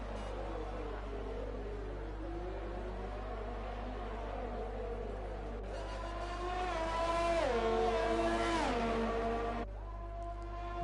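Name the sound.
Ferrari race car engine at Belgium circuit, racing video game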